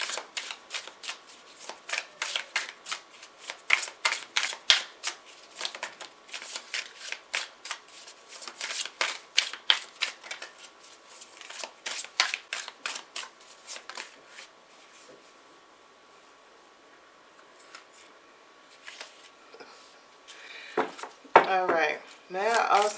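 Tarot cards riffled and shuffled by hand in rapid crisp bursts, repeated many times with brief gaps, close and clear, followed by someone speaking at the end.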